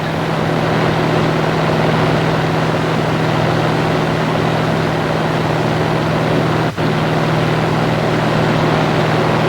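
A WWII P-47 Thunderbolt fighter's piston engine runs in a steady, loud, continuous drone with a low hum throughout, broken only by a single brief click near the end.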